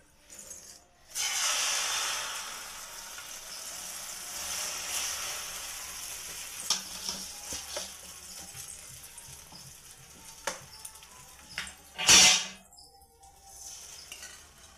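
An egg and bread omelette mixture fries in an oiled pan, giving a steady soft sizzling hiss with occasional utensil clinks and scrapes, heard close with no talking.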